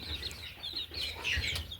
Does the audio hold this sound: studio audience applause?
no